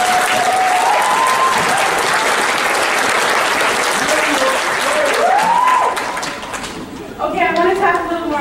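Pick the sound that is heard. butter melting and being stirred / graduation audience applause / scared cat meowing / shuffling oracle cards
graduation audience applause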